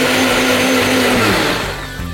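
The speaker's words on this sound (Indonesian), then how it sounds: "Kemudian saya ambil blender, kita siap untuk menghaluskan 8 buah bawang merah" A blender grinds eight shallots and a tomato for chicken balado, a loud steady whir with a sustained motor hum that dips slightly near the end.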